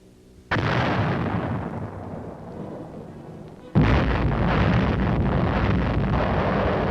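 Battlefield blast explosion: a heavy, loud roar bursts in, rumbles, then a second, stronger blast follows and sustains a dense, wind-like roar to the end.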